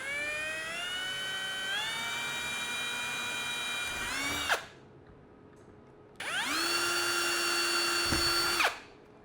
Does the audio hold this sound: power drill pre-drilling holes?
yes